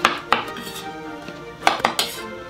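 A knife roughly chopping oyster mushrooms on a board, with a few sharp, separate taps and clinks spaced across a couple of seconds.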